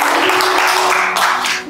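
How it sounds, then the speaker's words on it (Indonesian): An audience at a midweek church service applauds, a dense, loud burst of clapping lasting under two seconds and fading slightly at the end. "Berikan tepuk tangan dulu."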